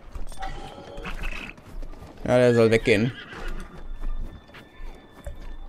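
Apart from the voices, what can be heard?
horse in The Legend of Zelda Breath of the Wild video game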